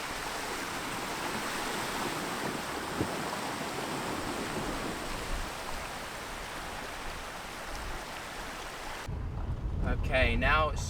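Suzuki Grand Vitara fording a stream on a valley road: steady broadband rush and splash of water against the vehicle over engine rumble, continuous and close, fading into quieter running with a voice speaking near the end.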